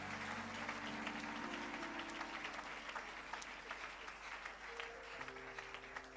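A church congregation bursts into sustained applause during a Sunday service, dense clapping rolling on for several seconds with keyboard chords held in the background.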